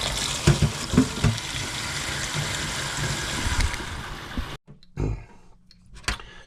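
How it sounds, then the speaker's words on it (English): Tap water runs steadily into a cooking pot at a kitchen sink fitted with a sink strainer, a broad hissing splash that cuts off near the end, followed by a few faint clinks. "So now I'm just simply going to put some water in this pot."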